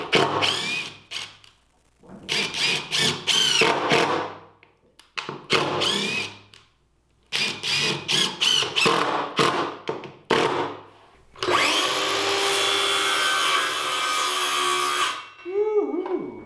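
A power saw cuts through wood close to embedded screws while building radius doors and trim for an off-grid composting outhouse. A loud, sustained rasping cut of about three seconds follows a stretch of spoken talk and knocking.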